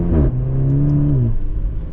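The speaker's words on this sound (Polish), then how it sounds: "Znakiem charakterystycznym każdego Maserati zawsze był dźwięk wydechu" A Maserati Grecale GT with a 2.0 turbo four-cylinder gives a close, loud exhaust rev, its pitch climbing then falling away after about a second into a steady drone.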